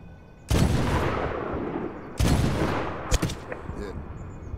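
Gunfire in the war shooter Medal of Honor (2010): two heavy blasts, each with a long rolling rumble, then a sharp crack and a few fainter echoing shots.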